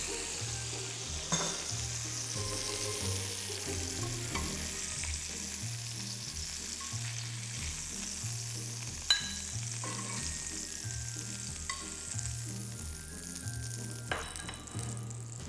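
Chicken breast pieces sizzle steadily in a frying pan, a continuous close hiss with a low rhythmic pulsing beneath and occasional sharper pops, no talking.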